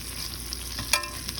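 Rabbit meat searing in a pan for a white stew, a soft steady sizzle with a brief utensil click near the end, heard alone.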